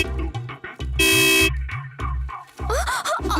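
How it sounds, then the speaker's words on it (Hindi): A vehicle horn honks in a loud, insistent series of short blasts and one longer held blast, set on a busy residential street. "दोबारा हॉर्न मारेगा तो इससे मारूंगा।"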